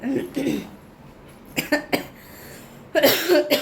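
A person coughs several times in short bursts, close by, with quiet pauses between the coughs.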